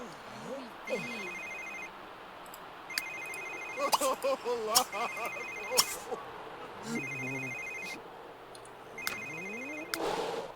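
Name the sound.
telephone ringing in the video game The Sims 3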